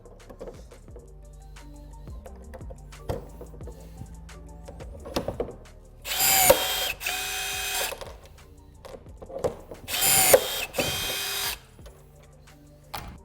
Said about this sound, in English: Install your rivet.